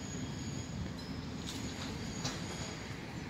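Train rolling past near a station, a steady faint rumble with occasional high wheel squeals and faint clicks, heard at a distance with no talking.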